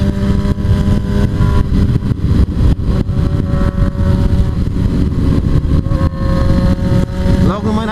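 A Honda CB1000 and other large motorcycles rev and accelerate nearby, loud uneven engine roars rising and falling over several seconds, with voices talking underneath.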